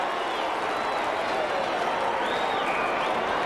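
Port Adelaide football fans cheer in a crowd at a 1994 Australian rules match against the Eagles, a steady broad roar of applause and shouting that holds at an even level throughout.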